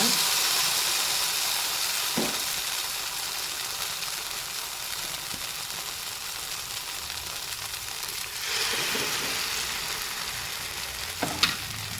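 Murumeen fish frying in hot oil next to pushed-aside onions in a pan, a steady close sizzle with a brief stir or clatter near the end and a louder burst of hiss partway through.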